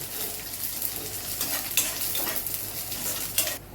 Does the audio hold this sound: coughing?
no